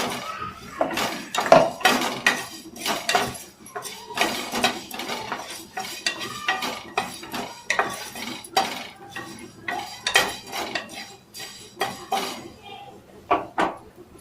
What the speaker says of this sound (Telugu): ధనియాలు 1 స్పూన్, ఇవి కూడా వేయించుకోవాలి